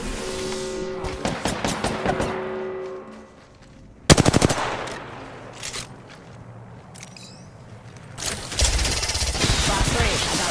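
Rapid gunfire strikes a player's aircraft in a shielded flight-combat video game: several loud staccato bursts of shots, separated by quieter stretches, with no talk.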